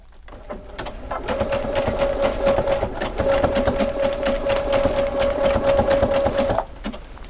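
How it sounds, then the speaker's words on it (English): A sewing machine runs steadily through fabric for several seconds, its fast even stitching hum close and loud, with a brief slowdown partway through before it stops near the end. "Now, as I'm stitching the first couple stitches, it looks like it's kind of close together."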